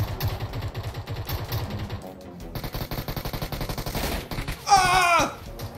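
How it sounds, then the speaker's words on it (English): Rapid automatic gunfire from PUBG Mobile, played on Apple Vision Pro, rattles in loud sustained bursts with a brief pause midway, then a sharper burst near the end. "Where are these shots coming from?"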